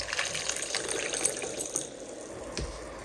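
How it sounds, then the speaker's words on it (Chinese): Warm water poured into a bowl of wood ear mushrooms and flour, a steady soft splashing trickle throughout, close and moderately quiet with no voices. "再加入温水"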